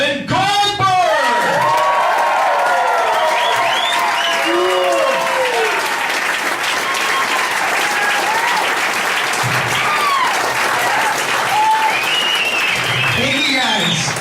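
A crowd applauds and cheers as a speaker is welcomed onto a stage, with dense, sustained clapping and scattered whoops lasting throughout, loud and close.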